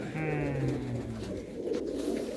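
Pigeons coo close by in a soft, rolling, low repeated call, with a voice murmuring faintly underneath.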